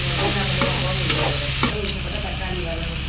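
Green chilies sauté in a pan of hot oil for chicken curry, making a loud, continuous sizzle with scraping stirs and a low hum beneath.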